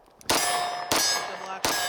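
Beretta Centurion Tactical pistol dry-fired in double action, three sharp metallic hammer-fall clacks with ringing tails spaced about two-thirds of a second apart, close and alone.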